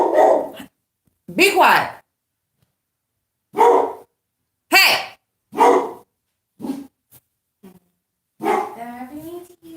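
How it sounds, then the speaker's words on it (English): A dog named Stank Bud barks in sharp, loud bursts, close by and spaced irregularly, with a voice scolding in between and a whimpery yip near the end. "He barking for no damn wrong reason."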